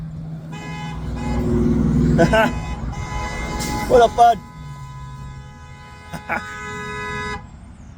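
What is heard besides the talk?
car horn honking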